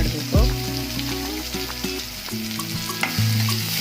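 Onions frying in a pan as the tempering for paper avalakki (flattened rice): a loud, continuous close sizzle with a low tonal hum underneath and small stirring clicks scattered through.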